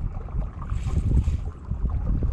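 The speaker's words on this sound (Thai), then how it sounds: "คลื่นน้ำอ่ะแม่งไปถึงนู่นน่ะหลักไม้ไผ่ตรงนู้นน่ะ" Water waves rushing and lapping against bamboo poles in a river or lake, with a steady low wash and wind buffeting the microphone, continuous and fairly close.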